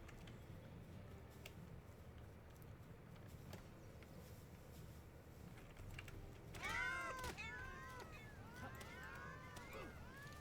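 The Meowmere sword in Terraria lets out a quick cluster of high, bouncing cartoon meows over low game background and faint clicking, close and clear.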